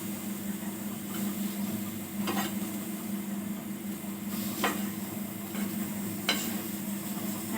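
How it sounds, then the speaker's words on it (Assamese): Three pieces of fish drop one after another into a dry pan with no oil, each making a soft thud and a brief hiss over a steady stove hum. "এতিয়া মাছ 3 পিচ মই লুটিয়াই দিম"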